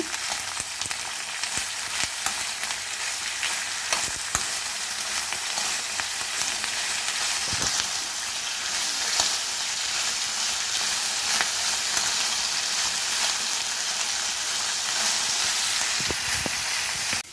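Bitter gourd pieces fry in hot oil for a gojju, a steady close sizzle with faint stirring scrapes throughout and no voices.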